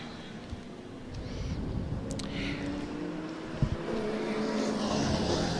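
A fast Transalloy car at a regularity tribute car event drives past, its engine note building and then easing off at moderate distance over steady background noise.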